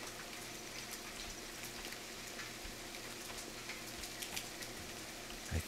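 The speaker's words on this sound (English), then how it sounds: "The problem is being in this rain, even in the daylight." Rain falls steadily in The Forest video game, a dense, even patter with scattered droplet hits that carries on throughout, moderately faint and without speech.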